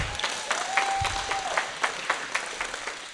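Scattered audience clapping at a political candidate's talk, a few distinct claps thinning out over a steady crowd murmur, with a brief whistle-like tone near the start.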